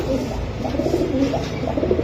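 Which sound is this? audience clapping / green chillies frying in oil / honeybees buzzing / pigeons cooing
pigeons cooing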